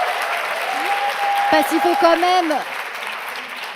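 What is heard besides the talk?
audience applause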